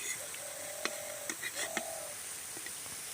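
Pumpkin flower fritters frying in oil make a soft, steady sizzle, with a few light clinks and scraping sounds as they are lifted out, quiet and close.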